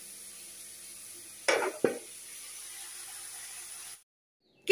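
Cauliflower and other vegetables fry in a pan at home with a soft, steady sizzling hiss. Two sharp stirring scrapes break through the sizzle before the sound cuts off abruptly near the end.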